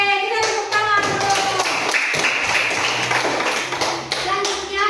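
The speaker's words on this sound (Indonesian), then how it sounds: "Oke, kita tepuk tangan dulu." A classroom of students claps hands together in a dense, steady burst of tapping lasting several seconds, with young voices mixed in underneath.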